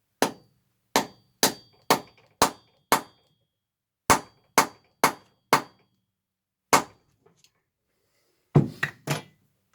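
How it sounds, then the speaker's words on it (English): Repeated sharp metallic hammer strikes in quick bursts, forming a new head on a screw while stripping a Royal Enfield EFI 500 engine, about a dozen close, crisp blows with short pauses between groups, no voices. "hammer in there and form"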